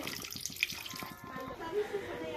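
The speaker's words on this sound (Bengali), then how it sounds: "এখন আমি পরিমাণ মতন জল দিয়ে দেবো" Water poured into a pan of cooked-down egg curry masala, a close, steady splashing trickle over a short stretch.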